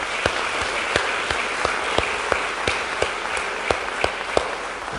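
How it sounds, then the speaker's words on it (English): Audience giving a round of applause, a continuous wash of clapping with distinct, regularly spaced louder claps standing out near the microphone. "Big round of applause to you guys."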